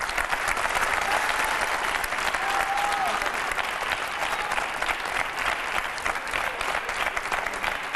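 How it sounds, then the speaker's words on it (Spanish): Studio audience of a Spanish TV satire show breaks into loud, sustained applause, dense steady clapping filling the whole stretch with a few faint whistles rising above it. "Fuerte aplauso para Usun Yun."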